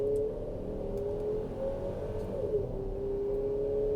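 2024 GMC Acadia SUV accelerating to highway speed in sport mode with paddle shifters: a steady interior engine drone rising in pitch, with a smooth whirring tone and road rumble beneath, no talking.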